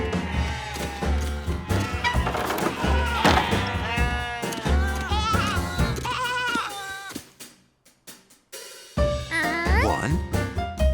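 Several cartoon sheep bleat in a loud, wavering chorus over a busy music score, with a brief quieter gap before the bleating and music swell back in.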